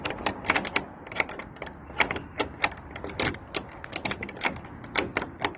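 Metallic clicks and rattles from locking a drop-off locker lockbox, sharp irregular taps and latch clunks close by, repeating throughout with no talking.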